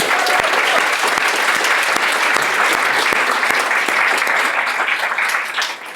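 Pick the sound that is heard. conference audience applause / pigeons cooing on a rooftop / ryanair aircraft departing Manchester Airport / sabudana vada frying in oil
conference audience applause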